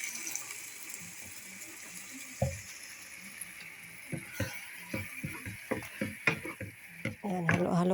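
Bagoong na hipon, a shrimp paste with vinegar added, is stirred in a pan, giving a faint sizzle and a series of soft scraping and tapping strokes that grow busier toward the end, with no talking.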